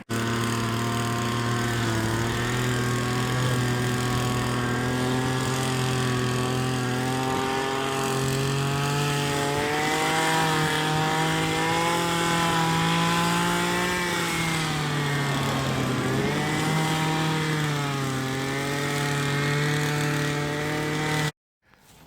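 A strimmer cuts grass along a roadside, its small two-stroke engine whining steadily and loud, close by, with slight rises and dips in pitch as it works, then cutting off abruptly at the end.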